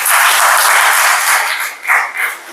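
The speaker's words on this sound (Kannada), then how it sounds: "ನಿಮ್ಮೆಲ್ಲರ ಚಪ್ಪಾಳೆ ಅವರಿಗೆ ಬರಲಿ." An audience at a Kannada book release applauds the author with dense, steady clapping that dips briefly and then swells again before fading near the end.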